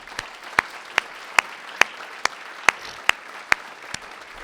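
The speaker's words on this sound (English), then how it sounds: "So how about a big round of applause for all of ourselves at this moment?" Applause at the Village of Niles mayor's 2023 State of the Village address comes as sharp, evenly spaced claps, about eleven in a steady slow rhythm over a faint background hiss.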